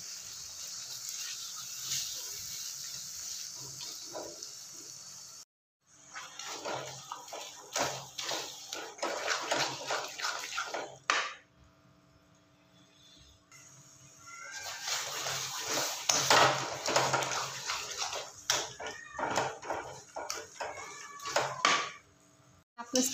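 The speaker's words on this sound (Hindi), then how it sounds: "मैं सारी सब्जियों को मिक्स करके अच्छे से मैश कर लेती हूँ।" Boiled vegetables for pav bhaji are mashed in a pan in repeated dull, uneven thuds and scrapes. There is a short pause near the middle, and someone speaks over parts of it.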